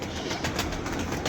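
Pigeons in a loft give a steady low murmur of cooing, with soft fluttering and rustling throughout, moderately loud and continuous, and no voices.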